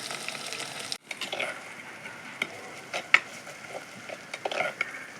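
Onion, green chilli and garlic fry in a pan after mustard seeds have popped, a steady close sizzle broken by sharp scrapes and clinks of a ladle stirring the mixture.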